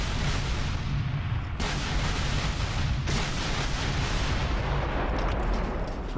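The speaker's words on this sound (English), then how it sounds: "So, artillery, fire on Posey, 1 demoralization." Artillery fires in a Gettysburg strategy game as a dense, continuous roar of booming cannon fire with a few sharper breaks, loud and steady throughout, with no voices.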